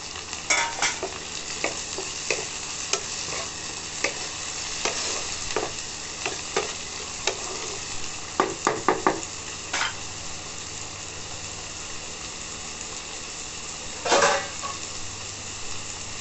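Onion with added tomato fries in a pan, a steady sizzle running throughout with irregular scrapes and clinks of stirring, a cluster of sharper knocks midway and one more near the end.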